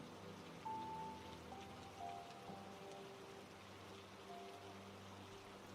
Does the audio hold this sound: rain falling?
yes